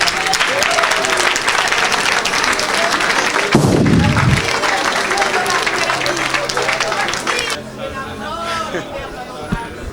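A church congregation claps and cheers for Jesus, loud sustained applause mixed with crowd babble and shouting, which thins out toward the end.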